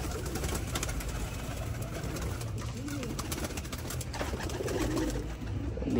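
Pigeons coo softly inside a loft over steady background noise, with several low coos scattered through the clip.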